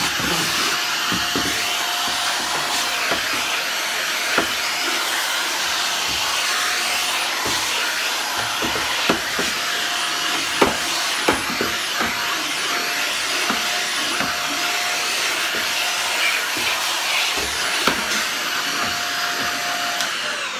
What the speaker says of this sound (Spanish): Voy a pasar la aspiradora. Paso la aspiradora por todo.